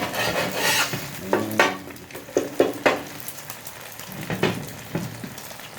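A Teochew-style oyster omelette fries in oil or lard in a wok, crisping with a close, crackling sizzle broken by repeated metallic spatula scrapes and clanks at an uneven pace.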